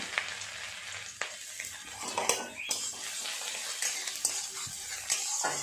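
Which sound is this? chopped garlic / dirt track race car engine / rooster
chopped garlic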